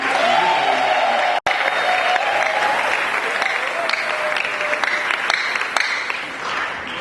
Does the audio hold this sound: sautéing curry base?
no